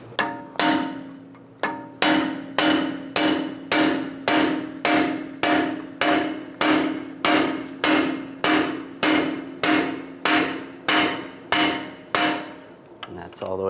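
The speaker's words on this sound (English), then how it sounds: "I'm going to punch the center axle straight through." Steady hammer blows on a steel punch driving the center axle out of a 1998-2010 Volkswagen Beetle's strut assembly, about two strikes per second, close and loud, sharp metallic clangs repeating evenly for over twelve seconds without talk.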